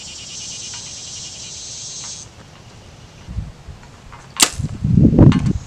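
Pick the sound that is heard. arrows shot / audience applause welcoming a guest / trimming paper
arrows shot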